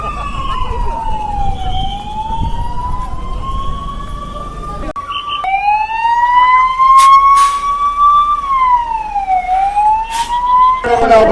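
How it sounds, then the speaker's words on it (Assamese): Wailing emergency sirens from ambulance and fire engine vehicles sweep up and down in long, loud cycles, continuous throughout with a brief break midway and another siren tone cutting in near the end. "বোমাৰ চাইৰেনৰ লগতে এম্বুলেন্স আৰু অগ্নি নিৰ্বাপক বাহিনীৰ গাড়ীৰ চাইৰেনৰ শব্দ"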